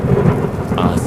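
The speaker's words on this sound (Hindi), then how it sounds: "बादलों से बिजली कड़क रही थी और बारिश इतनी तेज हो रही थी" Heavy rain pours down steadily while thunder rumbles low and loud through the whole short stretch, a dense storm wash with no voices.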